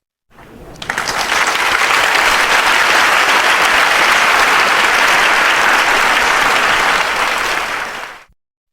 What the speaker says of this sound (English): there should be a lot of clapping for them